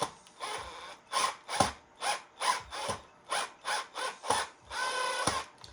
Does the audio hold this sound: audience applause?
no